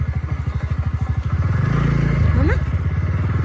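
Scooter engine on a rough, unpaved mountain road, starting with a rapid pulsing putter and rising into a louder sustained drone as it revs; a voice speaks briefly over the engine.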